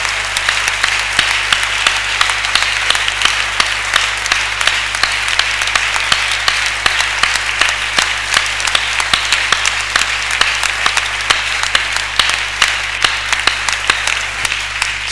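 A church congregation applauds steadily and loudly for about fifteen seconds, a dense wash of many hands clapping together with a low steady hum underneath and no break in the clapping.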